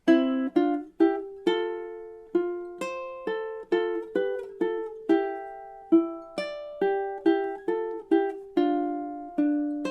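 A ukulele picks a longer melody passage from a tune, a steady stream of plucked single notes, close and bright, with no voices.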